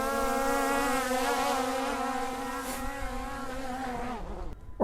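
A small quadcopter drone, a DJI Mavic Air or Skydio 2, buzzes in flight with a steady, harmonic propeller whine that wavers slightly in pitch and then drops away near the end.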